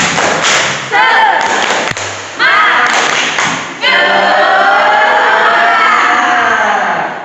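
A classroom of students does the Indonesian spirit clap, bursts of rhythmic group clapping with a sharp thud, broken by short pauses, and the children chant and cheer loudly over the claps.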